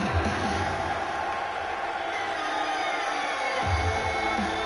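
Crowd noise from an ECW wrestling arena in WWE 2K17: a steady, loud roar of cheering spectators with a few scattered whoops, continuous throughout with no pauses.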